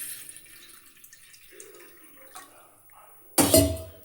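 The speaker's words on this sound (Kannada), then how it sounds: "ಆ್ಯಂಡ್ ದೆನ್ ನೀರು ಹಾಕಿ" Water for noodles splashes into a pot on a gas stove in a short, loud gush near the end, after faint scattered clinks and drips.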